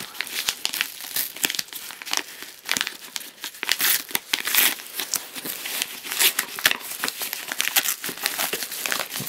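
Packaging for a Sega Saturn game is torn open and handled, giving close, continuous crinkling and crumpling of paper and plastic with sharp tearing bursts, with no talk.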